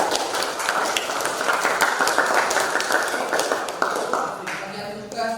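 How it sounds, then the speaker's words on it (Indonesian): Classroom clapping for a winning student group, a brisk patter of many hands that fades toward the end, with some talk mixed in. "Kasih tepuk tangan."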